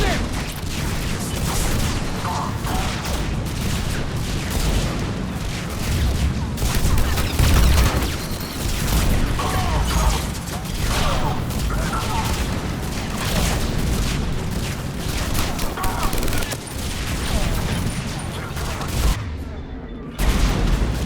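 Rapid, repeated shotgun blasts and other gunfire ring out during combat on Tuchanka in Mass Effect 3, loud and continuous for about twenty seconds. Voices talk intermittently beneath the shooting.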